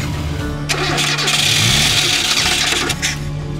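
A Renault 4L car engine cranks and catches on a morning start during the 4L Trophy rally in the Moroccan desert, with someone pumping the throttle, then a loud, rough, steady engine roar that persists close by.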